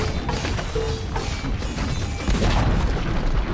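A tower being destroyed in a Dota 2 match, one loud low boom and crash swelling toward the end over steady game noise.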